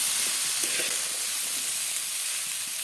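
Potatoes and green beans sizzle steadily in a frying pan, a continuous close hiss with small crackles and light stirring scrapes throughout, no voices.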